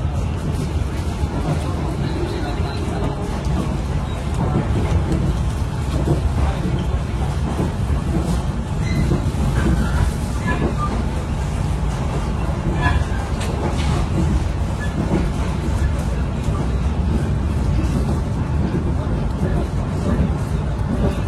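Steady rumble and rattle of a moving Mutiara Timur panoramic train passing straight through Kalisat station, continuous and fairly loud throughout with a voice talking over it.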